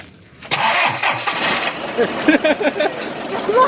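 An engine cranks and catches with a loud jolt, then runs roughly while voices talk over it.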